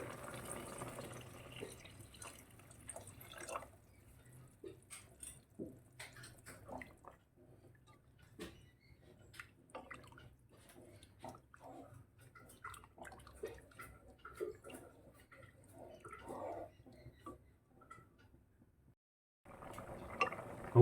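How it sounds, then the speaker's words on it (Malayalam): Second coconut milk poured into ada pradhaman payasam, a faint trickling and dripping of liquid with soft splashes and stirring clinks, quiet and close, with no voices. "രണ്ടാം പാൽ ഒഴിച്ചു കൊടുക്കാവേ"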